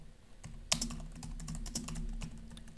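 Rapid typing on a computer keyboard while writing Pascal code, with a steady run of close, crisp key clicks and one sharper keystroke early on, no voices.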